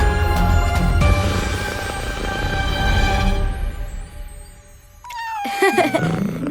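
A cartoon cat lets out a couple of drawn-out, loud meows over a background musical score, the last one rising and wavering near the end.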